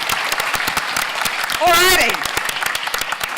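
Audience clapping at a conference panel, a broad burst of applause of roughly half a second under and between talk from a presenter, with crowd noise throughout.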